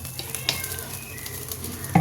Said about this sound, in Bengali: তেল দিয়ে দিচ্ছি মাছ ভাজার জন্য।